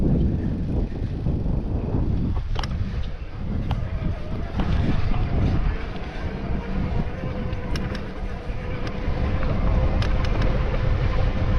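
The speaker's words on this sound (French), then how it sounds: "il y a du vent là qui vient de se lever" Wind buffets a microphone outdoors at a leisure lake in the Landes during an electric mountain-bike ride, a steady low rumbling roar with gusty swells throughout the whole stretch.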